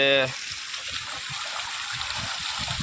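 Water trickles and gurgles steadily into a tank, a continuous splashing flow close by, with a brief tonal sound at the very start.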